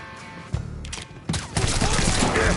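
Gunfire in Mafia 3 during a shootout, a flurry of sharp overlapping shots and cracks building in intensity, with some mechanical clatter beneath.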